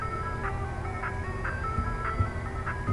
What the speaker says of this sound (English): Zelda music is known for being good